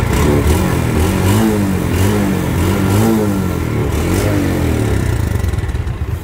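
A warm turbocharged motorcycle engine revs in repeated rising and falling surges, loud and close with a mechanical clatter throughout.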